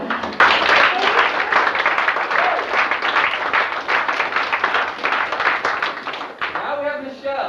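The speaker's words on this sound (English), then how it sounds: "Give her a round of applause." Loud, steady audience applause fills a fashion show on a 2004 cruise, dense clapping running nearly the whole time before fading out at the end.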